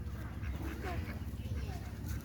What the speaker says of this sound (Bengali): ও আরেকটা হাঁস, আরেকটা হাঁস।